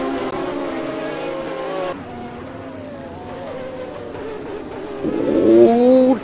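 GT race cars roar past at the Norisring street circuit, their engines wailing with shifting pitch, dropping away and then surging louder again as one car accelerates near the end.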